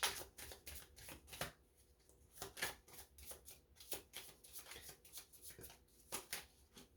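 Tarot cards being shuffled by hand, a steady run of soft riffling flicks and slaps, close and quiet with no talk.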